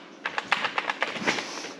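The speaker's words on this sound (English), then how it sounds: "Do you want to type on my keyboard?" Close, quick tapping on a computer keyboard beside an iPad, a burst of about a dozen light key clicks in an uneven rhythm that then fades, with no talking.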